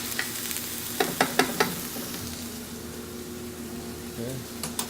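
Blanched asparagus sautés in a hot pan with a steady soft sizzle, punctuated by a few sharp clinks and scrapes of stirring near the start.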